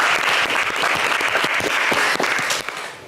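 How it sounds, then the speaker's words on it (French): A television studio audience claps in a dense, continuous burst of applause that fades slightly at the very end. "En tout cas, Lassina, on vous applaudit très, très fort."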